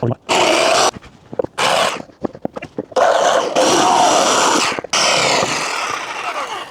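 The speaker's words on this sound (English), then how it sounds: "I'm just gonna cut this out with a jigsaw." A jigsaw cutting through shed siding, loud buzzing bursts of reciprocating saw noise that start and stop repeatedly, with short pauses and clattering handling sounds between cuts.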